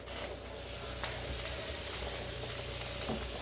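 Hamburger steaks frying in a cast iron skillet give off a steady, close, hissing sizzle that stays even throughout, with a few faint clinks and scrapes mixed in.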